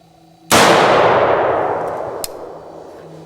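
A replica 1847 Colt Walker revolver fires a single 60-grain charge at dusk, one sharp, loud blast that rings out and decays over about two seconds, with a faint click afterward.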